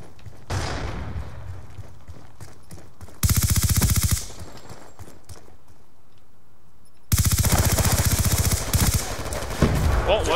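Call of Duty: Black Ops 2 played on Xbox 360: loud automatic gunfire comes in two long sustained bursts, separated by a quieter stretch of game sound.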